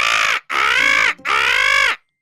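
A person imitates a crow with three loud, close, drawn-out caws, each harsh and nasal, separated by short gaps and ending abruptly.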